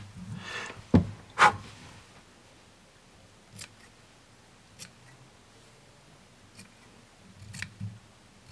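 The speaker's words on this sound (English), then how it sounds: "So see all this frizzy stuff on the back? And bye-bye. Just trim it off with the back of the fly." Scissors snip frizzy material off the back of a tied Santa Claus fly: two sharp close cuts near the start, then a few faint, spaced clicks and snips in a quiet room.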